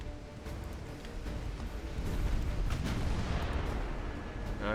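Warship guns firing in the naval battle game Ultimate Admiral Dreadnoughts, a steady rumbling barrage of booms and muffled blasts that swells louder midway and keeps going without speech.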